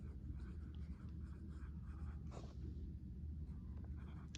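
A pen scratches across paper in a steady, faint stroke of writing over a low background hum, close by and without talking.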